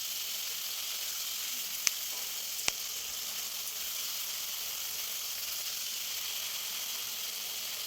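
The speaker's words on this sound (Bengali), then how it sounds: "এদিকে আমি আলু ভাজা বসিয়ে দিলাম" Potatoes frying in a pan while vegetarian khichuri cooks nearby give a steady, even sizzle throughout, broken by two brief sharp clicks near the start.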